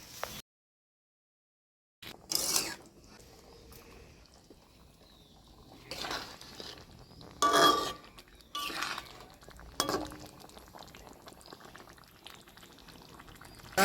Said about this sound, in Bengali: আমি পরিমাণ মতো জলটা দিয়ে নিচ্ছি।